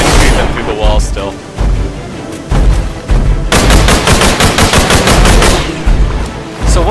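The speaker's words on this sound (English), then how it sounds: "I can even shoot them through the wall still." Rapid automatic gunfire from a first-person dinosaur-shooter video game, loud and dense in sustained bursts with short pauses between volleys.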